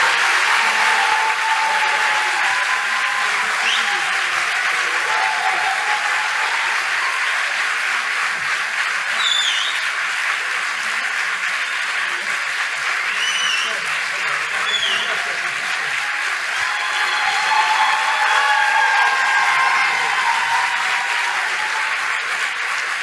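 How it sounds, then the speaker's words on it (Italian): Sustained applause from a theatre audience after a comedy show, a dense, steady wash of clapping that holds for the whole stretch, with occasional brief voices and whistles poking through. "a noi ci serve un forte applauso da parte vostra."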